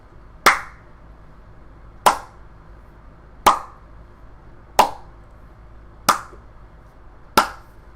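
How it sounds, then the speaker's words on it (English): Six sharp, isolated claps ring out one at a time at slow, slightly uneven intervals of about a second and a half, each with a short echoing tail, in an otherwise quiet dark space with no voices. "the clapping persists for a little while"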